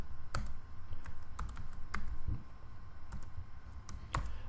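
Typing on a computer keyboard while a formula is entered into an Excel spreadsheet: a scattered run of sharp, close key clicks with irregular gaps, heard over a low background hum.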